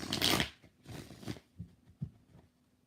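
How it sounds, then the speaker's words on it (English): Tarot cards being shuffled by hand, several quick riffling bursts up front followed by softer, separate card taps and slides, close and fairly quiet with no talking. "4 shuffles."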